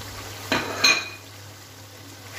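Spices stirred in a pot for Peshawari Shinwari beef karahi produce a couple of brief metallic scrapes and clinks near the start, then a quiet background hum and faint sizzle.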